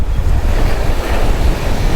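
Wind-driven chop slapping and churning around a fishing boat near a rip current, a loud, steady wash of surf and buffeting wind noise with no voices.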